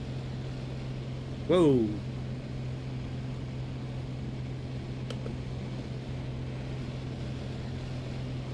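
Steady droning propeller engine held at 2,400 RPM in the Microsoft Flight Simulator 2020 video game, a constant low hum throughout, with a single brief exclamation from a voice early on.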